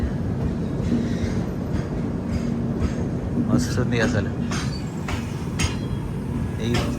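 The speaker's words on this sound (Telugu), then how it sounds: "ట్రైన్ మెల్లగా పోతుంది" The Kirandul passenger train 58501 rolls slowly through the valley near Araku station with a steady, close rumble and faint rail clatter, while someone talks over it.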